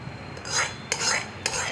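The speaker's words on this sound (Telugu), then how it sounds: "ఇప్పుడు ఆయిల్ వేసి కలుపుకున్నాం." A spoon stirs oil into a lemon pickle chutney, making three slow, scraping sweeps with a gritty rasp against the vessel, close and moderately loud with no talking.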